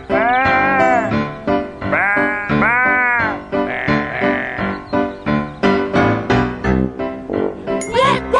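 Loud, wavering sheep bleats in close succession, several overlapping calls from a flock, nearby and continuous.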